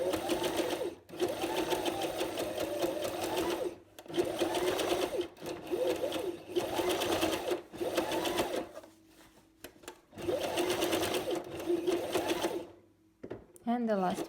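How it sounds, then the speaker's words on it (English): Domestic sewing machine running a straight stitch along a sleeve seam with no backstitching, in repeated bursts of steady whirring separated by short pauses, close and fairly loud, with a voice talking in the gaps. "So no back stitch, just straight stitch."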